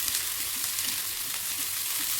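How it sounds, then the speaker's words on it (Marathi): Onions frying in oil on a hot griddle (tava) in a Konkan home kitchen, giving a steady, close sizzle with soft crackle throughout and no voices. "त्यानंतर त्यात कांदो भाजूक टाकल्यान."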